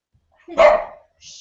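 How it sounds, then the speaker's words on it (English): A single dog bark rings out close and loud, followed by a brief faint yip, against an otherwise quiet indoor background. "my dog is barking"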